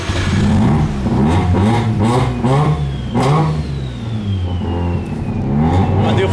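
A car with a rotary engine revs repeatedly on a tuning setup, loud and close, rising and falling in quick bursts with a whining note sliding beneath.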